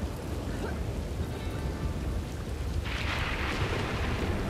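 Rain in the video game Red Dead Redemption 2: a dense, continuous hissing wash of rainfall with a low rumbling bed, growing brighter and heavier partway through, steady and loud with no talking.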